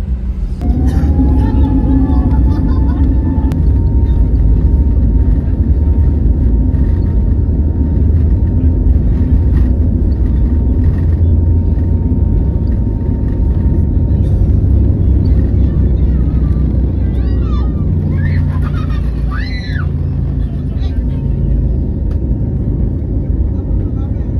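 Passenger jet climbing out after takeoff, heard from inside the cabin as a steady loud engine roar with a sustained whine, a few brief tones and faint voices over the drone.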